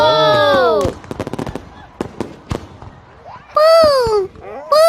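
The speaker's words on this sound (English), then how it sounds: "The fireworks are loud," Fireworks at a Fourth of July celebration burst in a rapid string of sharp cracks and pops, loud and close, between excited voices of children and adults exclaiming.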